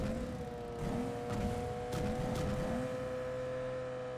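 A Lamborghini in PUBG Mobile gives a steady, tonal engine hum at moderate level, with a few faint clicks and rumbles passing under it and no talk.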